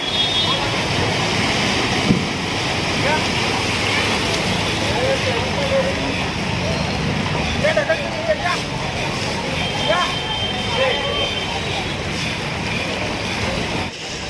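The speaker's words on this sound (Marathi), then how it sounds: "एवढ्या मोठ्या प्रमाणावरती आता चिपळूणमध्ये पाऊस चालू आहे" Heavy monsoon rain pours over floodwater in a Chiplun market street, a dense, loud, constant hiss and rush of water lasting the whole time, with a person talking over it.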